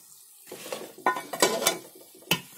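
Deep-fried veg Manchurian balls are stirred into sauce in a pan, with a spoon scraping and clinking against the metal over a soft sizzle, in a close, irregular series of taps and scrapes.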